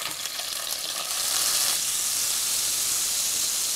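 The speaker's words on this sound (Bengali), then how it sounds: "জাস্ট 1 থেকে 2 মিনিট চিংড়ি মাছগুলোকে ভেজে তুলে নিব" Shrimp frying in hot oil in a pan makes a dense, bright hiss. The hiss swells louder partway through and then holds steady and close, with no voice over it.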